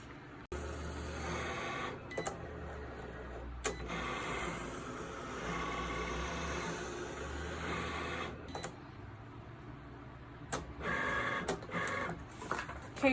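Cricut Maker or Explore Air 2 cutting Smart Materials, a quiet mechanical whir of the carriage moving back and forth with soft motor hums and occasional clicks and thuds.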